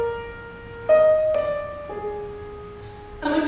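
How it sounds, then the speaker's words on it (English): A short musical motif for the character Elizabeth from the musical Elizabeth plays as a few sustained, pure-toned notes stepping up and then down, with a brighter chord entering at the end, clear and moderately loud. "I also introduce the first motif, Elizabeth's I Am Here motif"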